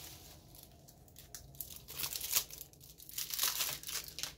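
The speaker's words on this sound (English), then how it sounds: "He's only paid to cut a certain amount of packs open." Crinkly foil wrapper of a Magic Jumpstart booster pack being cut and torn open up close, a run of scattered crackles and rustles that grow louder midway.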